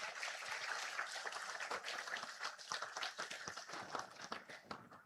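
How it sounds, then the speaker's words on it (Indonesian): A crowd of researchers at a meeting with the Indonesian president claps steadily, a faint, distant wash of many hands applauding continuously. "Siapa yang tepuk tangan ini?"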